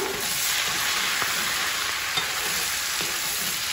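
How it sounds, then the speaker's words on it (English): Couple tablespoons of minced garlic fry in a pan with a dense, constant hiss and sizzle, while faint stirring scrapes and light ticks surface now and then; no one speaks. "Let's stir it up."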